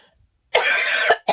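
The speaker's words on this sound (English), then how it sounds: "I'm starting to cough again" A single harsh cough bursts out close up, followed by a short second cough after a brief pause.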